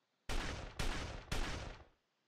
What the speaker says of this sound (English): Gunfire goes off all around us.